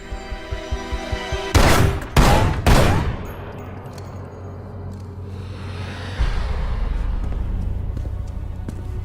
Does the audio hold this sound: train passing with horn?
no